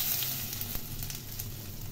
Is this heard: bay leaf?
yes